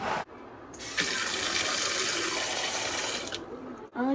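Water gushes steadily from a sensor-activated tap into a sink, a loud continuous splashing stream for about two and a half seconds, starting and stopping abruptly.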